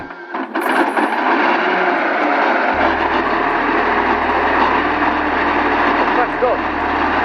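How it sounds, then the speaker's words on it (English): A 27-liter Merlin V12 aircraft engine fitted in a long custom car built in 1966 roars steadily, loud and close, a thick continuous drone with deep low rumble throughout. "At its heart lies a 27-liter Merlin VF-12 aircraft engine."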